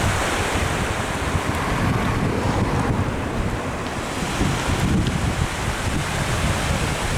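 Ocean surf breaks steadily on the shore at Kåseberga on the Swedish coast, with heavy wind buffeting the microphone. The roar is continuous and loud, with no voices.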